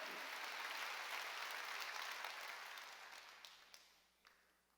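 A church congregation at a Sunday worship service claps together in a broad, faint wash of applause that holds steady and then fades away, leaving a few last isolated claps.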